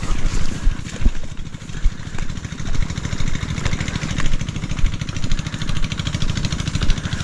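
A small engine-driven water pump runs on a farm plot while irrigating chili plants, giving a loud, steady, throbbing putter with rapid regular pulses throughout, close by and without speech.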